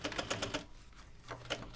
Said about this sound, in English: you wanna make sure you backstitch when you're sewing over the zipper